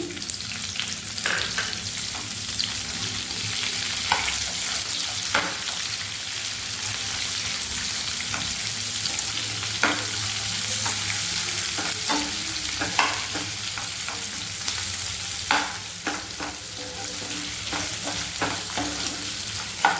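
Onions fry in a pan for a paneer cashew masala gravy, sizzling continuously up close. Frequent stirring scrapes and clinks rise above the steady crackle.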